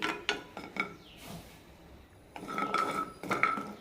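Jackfruit seeds being stirred as they roast in a pan on low flame, with scattered metallic clinks and scrapes up close, a quieter pause in the middle before the rattling resumes.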